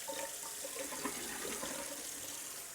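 Water runs steadily while a DeLonghi Clessidra coffee cup is rinsed, a close, continuous splashing flow from start to finish with no voices.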